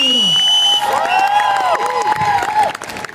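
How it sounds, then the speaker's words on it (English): Crowd at Comic Con in Mumbai cheering and clapping, with high whoops and shouts over scattered applause that thins out toward the end. "Let's give a big round of applause"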